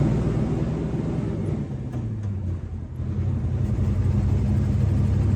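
A car engine bogs while driving, a steady mid-range rumble that sags briefly partway through before picking back up, close and fairly quiet.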